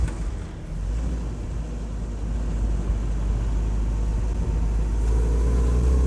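A 77-year-old Willys jeep engine pulls away on its first drive, a steady low rumble that holds loud and close throughout, with rushing wind noise over it.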